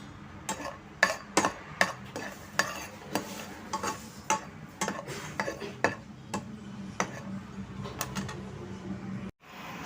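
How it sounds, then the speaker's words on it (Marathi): Walnuts roasting and being stirred in a pan, a quick irregular series of hard clicks and rattles as the nuts are tossed against the metal, close and prominent over a faint low hum. "मी हे अक्रोड टाकते आणि भाजून घेते"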